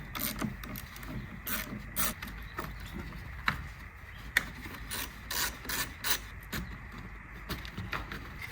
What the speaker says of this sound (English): Now undo the battery terminals. First one is the negative, then the positive. It is also a 10mm hex socket, so undo it.